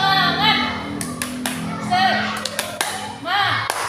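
Classroom children perform the rhythmic tepuk semangat cheer, sharp group handclaps punctuating their chanted voices in an Indonesian lesson, close and fairly loud.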